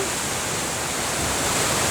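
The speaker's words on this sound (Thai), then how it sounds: "แล้วก็น้ำตกค่อนข้างที่จะ ไหลแรงมากๆเลยนะคะ" The Dalälven waterfall at Laxön in Sweden pours hard in a dense, unbroken roar of rushing water, loud and close, with no voices.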